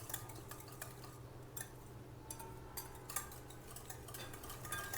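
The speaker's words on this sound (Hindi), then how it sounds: "सभी चीज़ों को मिक्स करेंगे और गुड़ को हम अच्छे तरीके से घोल लेंगे" Jaggery being stirred into raw mango pulp for aam panna, a soft steady scraping and clinking of a spoon against a pot with faint scattered ticks and taps, close and quiet, no voices.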